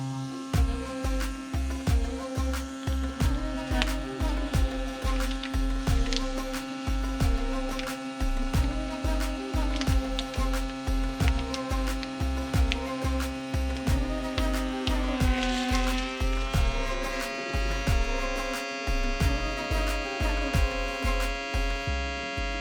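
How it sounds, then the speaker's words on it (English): Rhythmic mechanical pumping as a Kanama VersaPump with a vacuum sealing accessory seals a bag, a motor throbbing in fast regular pulses with a steady hum, close and continuous, pitch shifting slightly near the end. "Attached the vacuum sealing accessory to the Kanama VersaPump."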